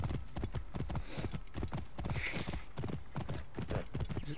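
Horse hooves clip-clopping steadily in Assassin's Creed Origins, a continuous rapid trot running throughout at close range, with no voices.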